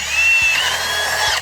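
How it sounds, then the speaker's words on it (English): A power drill fitted with a spade bit bores a hole into wood, giving a loud, close, continuous whirring whine with slight changes in pitch as the bit cuts. "we're going to drill a hole into this top part and insert the dowel into it"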